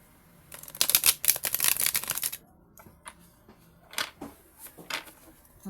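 Tarot cards are shuffled by hand outdoors in wind, giving a dense crisp riffling burst for about two seconds and then several shorter, softer flicks and taps. The sounds are close and there is no talking.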